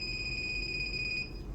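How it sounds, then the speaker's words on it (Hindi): A multimeter set to continuity buzzer mode, probing pins on an outdoor air conditioner PCB during IPM repair, gives a steady, high-pitched continuous beep that holds for over a second before cutting off. "देख सकते हैं बजर की आवाज़ आई।"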